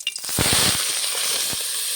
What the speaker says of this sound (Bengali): তেলটা গরম হয়ে গেছে, মাছের তেল দিয়ে দেবো।